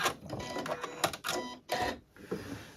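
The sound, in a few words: sewing machine stitching fabric runner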